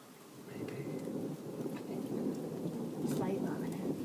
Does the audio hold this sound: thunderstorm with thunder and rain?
yes